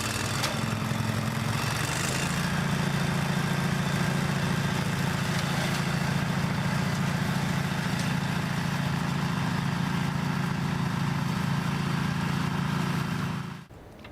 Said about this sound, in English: The Logic Flail Mower is powered by a Briggs Stratton 16 horsepower V-twin engine